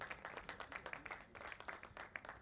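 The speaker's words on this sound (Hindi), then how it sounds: "आप लोग तालियां बजाते रहें।" An audience at a birthday celebration event applauds during a memento presentation, a faint, steady patter of many hands clapping at a distance.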